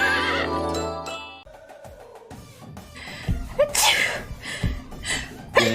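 A pet dog sneezes in a short, sharp burst, followed by snorting and snuffling sounds at close range, with brief human vocal sounds mixed in.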